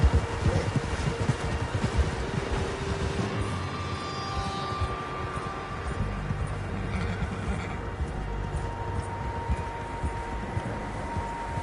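Horses in a PS4 video game, several loud whinnies and neighs over a busy clatter of hooves, close and continuous throughout.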